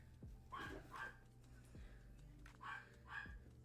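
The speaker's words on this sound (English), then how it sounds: "I am sorry about the doggo barking." A dog barks in two short pairs of yips, somewhat distant and muffled, with a low hum and faint background activity.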